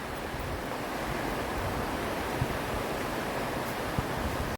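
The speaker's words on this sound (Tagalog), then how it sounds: "Sounds ng ilog." Steady rushing river water fills the scene, a broad continuous wash with no talk, cutting off abruptly at the end.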